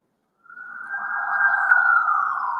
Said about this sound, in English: These are authentic Bushwick sirens.